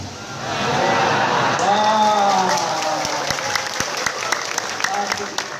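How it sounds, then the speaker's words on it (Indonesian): Women in a religious lecture audience break into broad applause that swells, holds for a few seconds and thins into scattered claps, heard close in a reverberant hall with a voice speaking over it. "Ibu-ibu tepuk tangan."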